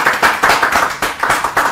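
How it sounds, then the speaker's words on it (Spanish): Rhythmic clapping on a Spanish-language television programme, roughly evenly spaced claps close by, a small group keeping a steady beat. "Un aplauso para Gisela Yurfa"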